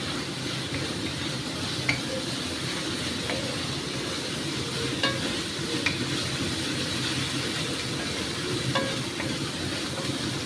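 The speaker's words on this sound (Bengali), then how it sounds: "এই মশলাটার সাথে আবার কষাবো" Spice paste stir-fried with fried potatoes in a pan for a jackfruit-seed curry, a continuous loud sizzle and hiss with occasional light scrapes and taps of the spatula; no voices.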